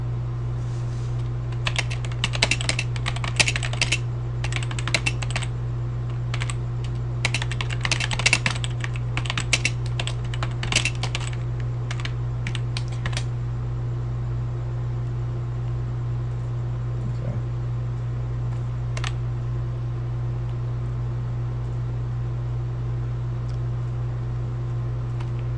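Rapid bursts of keystrokes on a computer keyboard clatter close by for about ten seconds, then thin out to a few isolated taps over a steady low electrical hum.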